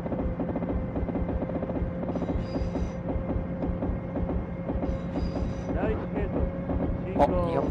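A JR 223 series rapid train is driven in the Dreamcast game Densha de Go! 2 on the Tokaido Line between Osaka and Kobe, with a steady motor whine and rhythmic wheel clatter throughout, and a brief chime near the end.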